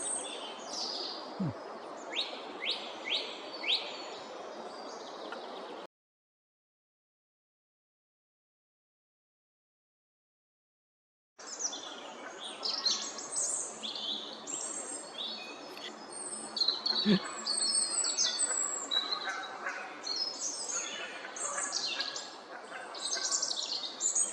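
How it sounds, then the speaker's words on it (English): Song thrush singing outdoors in bursts of bright, repeated chirping phrases, moderately near, broken by a silent gap partway through before the song resumes. "These song thrush singing away."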